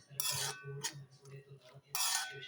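Lemon pickle is stirred with a metal spoon in a pan, giving scraping, clinking strokes in a loose rhythm with two louder bursts, close and fairly quiet, no talking.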